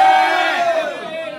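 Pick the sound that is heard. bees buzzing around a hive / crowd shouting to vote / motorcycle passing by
crowd shouting to vote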